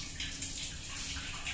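Water pours off soaked, hulled urad dal as it is drained in a kitchen, a short, soft, steady splashing trickle heard alone.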